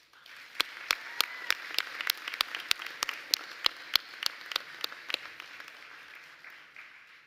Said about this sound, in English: Please give them a round of applause to show your thanks.